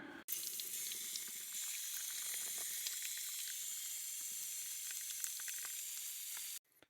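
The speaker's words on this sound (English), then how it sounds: "now I'm going to give them a pretty good drink of water." Water pouring steadily from a watering can over potted lingonberry cuttings set in the shade, a continuous close splashing hiss lasting several seconds before stopping abruptly.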